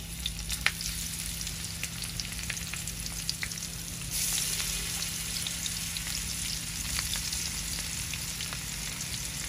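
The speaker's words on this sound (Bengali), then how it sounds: "আমাদের কড়িয়ে তেল গরম হয়ে গেছে, এখন মাছ দিতে আছে।" Hilsa fish frying in hot oil in a wok, a steady dense sizzle with crackling pops that swells slightly partway through and runs unbroken, with no talking.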